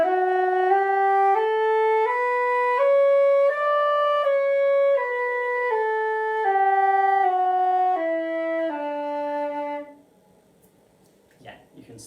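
A flute plays a slow, evenly paced scale up and back down, each note clear and sustained, then a few soft handling noises after it ends.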